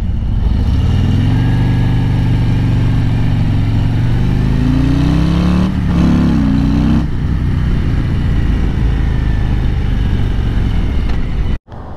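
A 2020 Harley Davidson CVO Road Glide motorcycle rides along, its loud steady engine drone rising in pitch as it accelerates, then easing before a sudden cut near the end.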